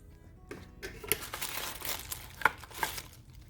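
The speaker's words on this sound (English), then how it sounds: "I'm opening the Paper Pumpkin 10 Years of Growth March 2023 Paper Pumpkin Kit" A Paper Pumpkin craft kit, the March 2023 Ten Years of Growth edition, is opened and unwrapped with crisp, close crinkling and tearing of paper and plastic, in irregular bursts with no voices.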